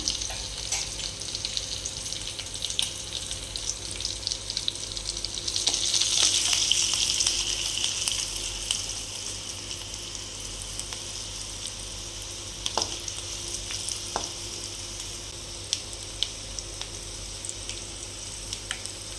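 Tomato and egg curry with turmeric frying in a pan, a steady close sizzle with a louder surge early on and occasional sharp spoon clicks while stirring.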